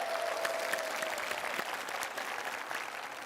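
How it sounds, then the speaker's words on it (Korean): Audience applause at a Korean talk concert, a steady, moderately loud crowd clapping that fills the whole stretch without speech. "박수 한번 부탁드리겠습니다"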